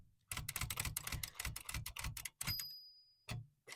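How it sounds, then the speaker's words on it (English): Rapid clacking of typewriter keys in an uneven burst, close and fairly loud, then a sharp carriage-return ding and a final few strokes after a short pause. "Typewriter ASMR."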